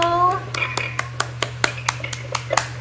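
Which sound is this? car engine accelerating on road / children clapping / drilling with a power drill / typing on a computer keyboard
children clapping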